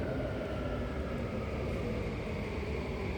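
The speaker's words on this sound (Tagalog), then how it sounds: "Hintay tayo ng train." A Singapore MRT train at a station platform gives a steady, loud rumble and whoosh of rail noise throughout, with no talk.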